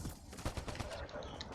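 Rapid gunfire from a firefight in Mass Effect Andromeda, a quick burst of closely spaced shots crackling over a noisy, layered battle din.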